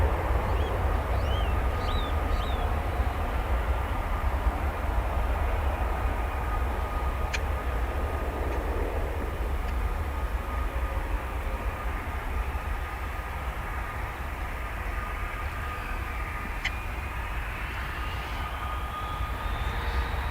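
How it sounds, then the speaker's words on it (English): A British Airways jet passes at DFW Airport with a loud, sustained engine roar and a whining tone that slowly shifts in pitch as it moves by, steady throughout. "There's that British Airways jet."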